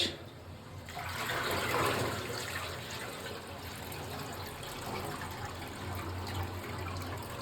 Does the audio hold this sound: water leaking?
yes